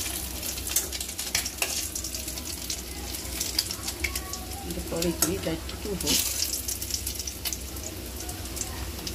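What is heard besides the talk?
masala sizzling while frying in a pan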